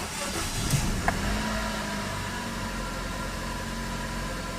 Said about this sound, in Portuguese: Então vamos dar a partida aqui no Corolla